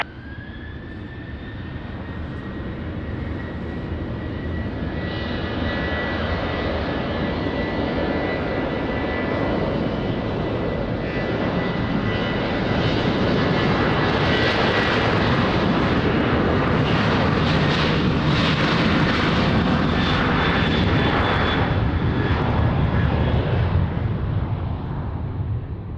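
A Ryanair jet airliner takes off from runway 20 at Lisbon Airport, its engines a loud, sustained roar with a whining tone that swells and holds across the whole stretch, heard from nearby and without talk.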